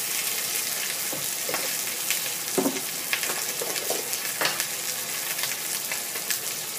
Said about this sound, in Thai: ผัดให้หอมก่อนนะคะ